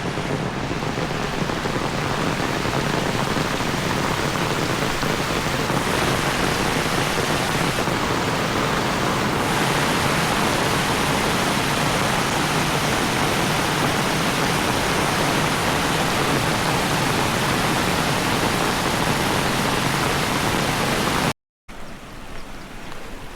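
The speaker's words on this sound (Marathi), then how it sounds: "मित्रांनो ही पालघरची नदी आहे" A flooded river in Palghar, Konkan, swollen after torrential monsoon rain, gives a loud, dense, unbroken roar of rushing water that holds steady throughout, with one brief dropout near the end.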